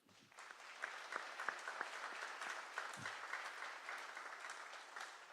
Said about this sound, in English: I just want another round of applause for them, please.